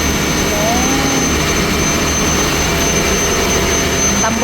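A loud, steady boat engine roar with a broad rumbling exhaust from a large exhaust pipe, continuous throughout and close by.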